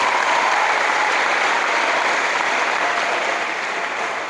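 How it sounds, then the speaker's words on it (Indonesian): Audience applause at a motivation seminar in Banten, a steady wash of many hands clapping that stays loud throughout and eases slightly toward the end, with no talk over it. "Tepuk tangan buat kakak kita hari ini."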